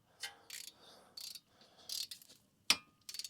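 A torque wrench ratchets a 14 mm brake caliper bolt on a 2006-2011 Toyota RAV4, giving short bursts of close, quiet clicking separated by brief pauses, with one sharper click near the end.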